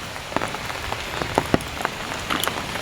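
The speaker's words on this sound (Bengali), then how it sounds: "বৃষ্টি থামছে না।" Steady rain falls in a rural Bengali village setting where papaya trees stand in flooded ground, a continuous wash of drops with scattered louder splashes and patters, fairly close, with no talk.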